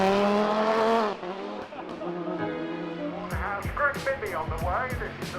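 Racing cars at the Shelsley Walsh hill climb roar loudly past. A sustained high engine note drops away after a second, then revving rises and falls in bursts, with gear changes and sharp crackles.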